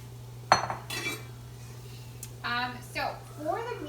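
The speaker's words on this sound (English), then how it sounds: "I'm just gonna actually rinse out this bowl just to make sure I don't have any raw" A bowl is rinsed out in a kitchen, with clinks and knocks of dishware, bursts of running water and splashing, close and moderately loud over a steady low hum.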